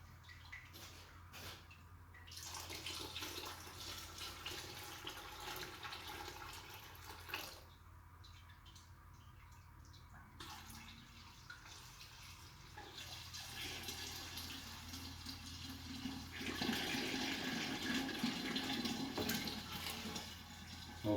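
Tap water runs steadily as homebrewing equipment is washed on a NEIPA brew day, a continuous splashing rush that shifts in tone and grows fuller and louder toward the end.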